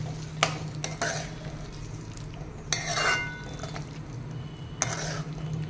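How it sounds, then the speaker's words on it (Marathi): A spoon stirs ridge gourd curry in a pan with a few sharp scrapes and clinks against the metal spaced across several seconds, over a low steady hum. "मिक्स करून घेऊया।"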